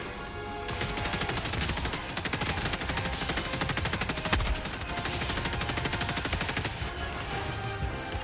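Dense, rapid gunfire from Helldivers 2 rattles nonstop for several seconds, loud and close, with the rifle shots and battle noise blurring into one continuous burst and no talking.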